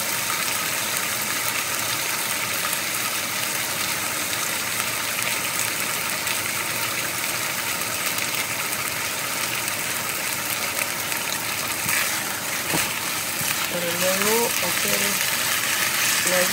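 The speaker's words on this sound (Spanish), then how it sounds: "vamos a continuar friendo toda la carne" Meat frying in a pan for Chinese-style beef with peppers and oyster sauce, a steady broadband sizzle running throughout at moderate level, with faint voice-like tones briefly near the end.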